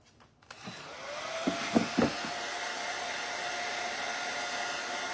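A hair dryer blows in a steady, loud whine after a short click at the start, with a few brief knocks in the first seconds, then runs on continuously and alone.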